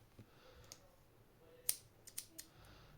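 Scissors snip white crochet yarn, giving a few faint, quiet clicks and one sharper snip in otherwise near-silent surroundings.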